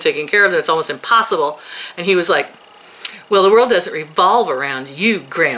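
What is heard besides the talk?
No everyday noise stands out behind the speech.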